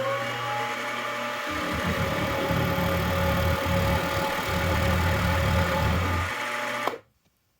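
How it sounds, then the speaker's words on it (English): A used milling machine cuts metal with a steady mechanical whine and motor hum, a rougher grinding texture rising mid-cut, then stopping abruptly near the end. "Made a second cut and a little faster feed speed, but also a little more depth of cut, and doesn't even seem like the mill is struggling"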